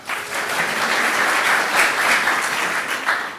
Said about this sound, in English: Let's give a big round of applause for our final two